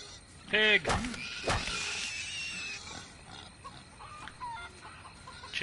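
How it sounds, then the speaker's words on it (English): Chickens cluck in the video game Hours of Darkness, a sharp squawking burst followed by softer intermittent clucks and game sounds, under a player speaking. "Chickens."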